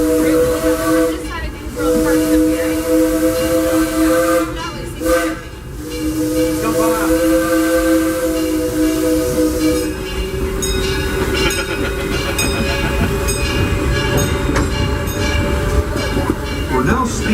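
The Disneyland Railroad steam train sounds long, loud, multi-tone whistle blasts with brief pauses, then chuffs and rattles along with a steady hiss and clatter of the cars.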